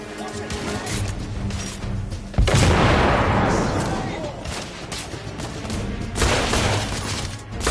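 Grenade blast and gunfire in the Victorian-era shooter The Order: 1886: a loud broadband explosion hits mid-clip and decays, set in a steady wash of gunfire, with a voice talking in the background.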